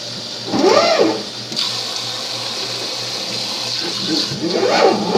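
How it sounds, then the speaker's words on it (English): Water running from a tap or jug into a pot of dried beans to cover them for soaking, a steady close stream with two louder swelling pours at the start and end, no talk. "just a little more water"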